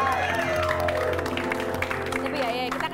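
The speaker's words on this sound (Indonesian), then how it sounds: "Kalau begitu tepuk tangan dulu buat Barbie Kumala" A studio audience on an Indonesian celebrity gossip TV show claps and cheers, a dense steady wash of applause mixed with loud show music and a presenter's voice running over it.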